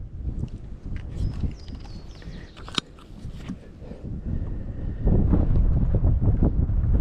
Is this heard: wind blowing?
yes